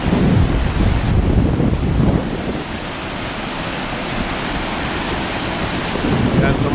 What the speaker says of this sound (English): Got some rapids here.